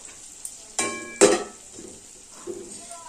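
Masala for mutton curry, cooked with mustard oil, is stirred in a pan: soft background sizzle broken by a few sharp metallic scrapes and clinks of a spoon against the pan, close and intermittent.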